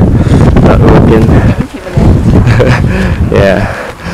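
Strong gusts buffet the microphone on a steep slope of Mt Batur in Bali, a loud, rumbling roar that barely lets up while people talk underneath.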